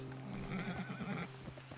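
A horse in Red Dead Redemption 2 gives a clear, close neigh, a wavering whinny lasting about a second with a faint hoof clop or two after it.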